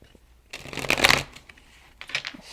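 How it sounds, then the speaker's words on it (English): Tarot cards shuffled quickly by hand, a dense riffling burst of papery flutter lasting under a second, followed by a softer shorter shuffle near the end, close and alone. "Shuffle really quickly."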